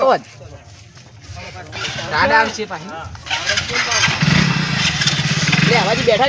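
A motorcycle engine cranking and catching, then running with a rising mid-pitched drone, close by, while several people talk loudly over it.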